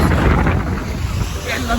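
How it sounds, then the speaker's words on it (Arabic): Strong wind at the seaside buffets the microphone with a loud, continuous roar and rumble, with faint surf beneath it. "بصوا الدنيا هوا قوي."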